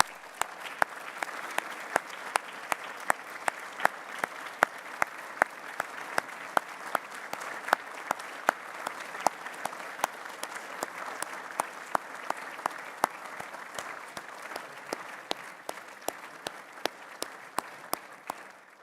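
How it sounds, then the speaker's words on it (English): A seated audience at an Order of British Columbia investiture ceremony gives a steady, moderate round of applause, with sharp individual claps standing out close by against the softer massed clapping. "join me in thanking the people who made it possible for you to be here today. with a round of applause"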